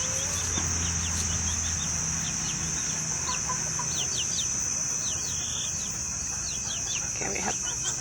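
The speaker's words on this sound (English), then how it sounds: "let's see what the chickens have to say" Backyard chickens clucking softly and intermittently at a distance, with a rooster-like call mixed in, over a steady bed of crickets and insect buzz.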